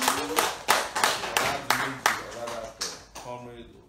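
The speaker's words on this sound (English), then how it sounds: "Yes, give him a round of applause." An audience at a Nigerian political gathering gives a round of applause, a string of sharp, close hand claps in a steady rhythm that gradually thins out, heard without talk over it.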